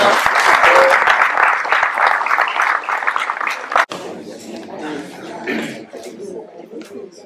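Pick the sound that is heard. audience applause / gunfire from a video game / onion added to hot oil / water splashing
audience applause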